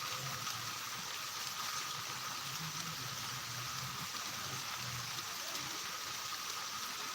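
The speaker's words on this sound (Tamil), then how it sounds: "சிதம்பரம் பகுதியில் இன்று மாலை நான்கு மணி அளவில் கரும் மேக கூட்டத்துடன் சீரான மழை பெய்ய தொடங்கியுள்ளது" Steady rain falls from dark clouds over Chidambaram in the late afternoon, a soft, even, continuous hiss heard from a distance with no voices.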